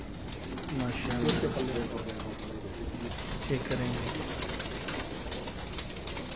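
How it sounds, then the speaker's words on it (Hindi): Soft, low cooing from Faqir Gul pigeons, repeated a couple of times, while someone talks over a noisy outdoor background in Lyari, Karachi. "ये फकीर गुल कबूतर है जी"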